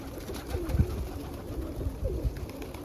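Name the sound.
pigeons cooing at loft during morning corn feeding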